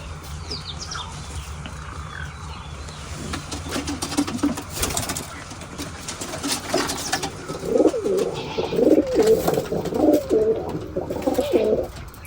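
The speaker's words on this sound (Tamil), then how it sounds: "வாங்க நம்ம புறா எவ்வளோ இருக்குது, புறா சிக்கு எவ்வளோ இருக்குதுன்னு பார்த்துட்டு" Pigeons coo in a pigeon coop, soft throaty repeated calls swelling in the second half over a low hum and light rustling, close by and moderately loud.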